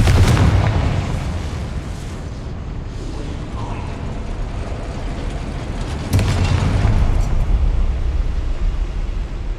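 A Confringo spell explosion in the video game Hogwarts Legacy, heard as a loud, sustained rumbling blast with a second surge of booming partway through.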